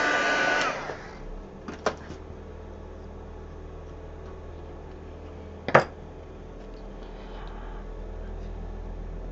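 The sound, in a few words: heat tool melting metallic embossing powder on cardstock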